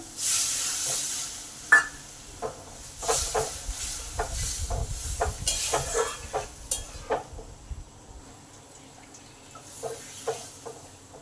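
Water poured onto fried masala in a pan for paneer masala brings a hiss and bubbling sizzle, broken by a string of spoon clinks and stirring scrapes against the pan, close by.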